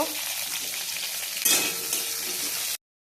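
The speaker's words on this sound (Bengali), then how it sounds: "পরে আমি আলুগুলো দিয়ে দেবো মানে আলুগুলো একটু দিয়ে নাড়াচাড়া করব" Potatoes and papaya stir-fried in hot oil in a pan, a steady, close sizzle with scraping stir strokes and a brief surge of crackling midway before it cuts off abruptly.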